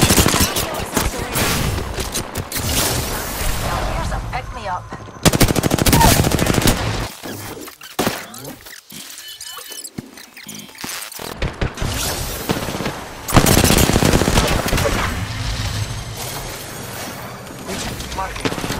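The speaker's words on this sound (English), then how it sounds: "I'm taking fire." Rapid bursts of gunfire in the video game Overwatch, loud and dense with machine-gun rattles and sharp shots, pausing briefly before resuming in heavy volleys.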